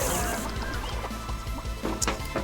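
A chicken clucks in the video game Ben and Ed, short rhythmic clucks mixed with knocks and a crash over busy game sound.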